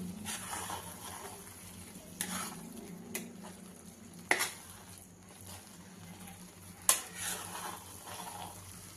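A spoon stirs a thick coconut barfi mixture with cardamom powder in a pan, a soft continuous scraping and sizzle broken by a few sharp knocks of the utensil against the pan, quiet and close.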